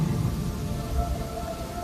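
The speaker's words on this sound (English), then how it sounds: "Real rain, everybody. Real rain." Artificial rain pours down inside the New Zealand pavilion at Expo 2020 Dubai, a close, steady hiss and patter of falling water with a low rumbling undertone throughout.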